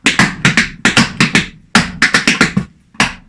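Sharp tap shoe strikes on a wooden board in quick rhythmic clusters, crisp and close, with brief pauses between phrases.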